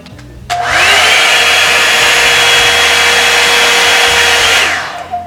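A Revlon One Step hair dryer on high heat roars loud and steady for about four seconds, a bright whooshing airflow with a motor whine that starts abruptly, holds even, and then cuts off, with no talking over it.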